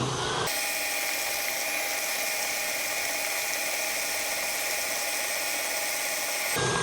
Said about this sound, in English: you're gonna mix it on high for 30 seconds